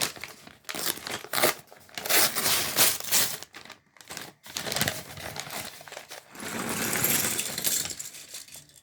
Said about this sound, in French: Ce bruit de papier, de plastique.